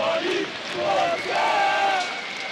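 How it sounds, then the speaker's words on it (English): A crowd cheers wildly for Virtus.Pro at an ESL One Cologne esports quarterfinal against Ninjas in Pyjamas, a steady roar of many voices filling the arena with swelling shouts. "the cheering section there for Virtus.Pro just going wild"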